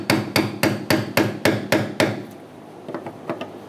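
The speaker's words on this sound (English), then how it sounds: "using a brass punch." Hammer blows on a brass punch drive a badly rusted fuel pump locking ring counterclockwise on a 2004-2009 Mazda 3 2.3L, seven sharp, evenly spaced metallic strikes close up, then a few lighter taps.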